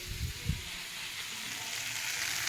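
Vegetables frying in a pan, a steady, moderately quiet sizzle that holds evenly throughout, with a couple of soft low thumps near the start.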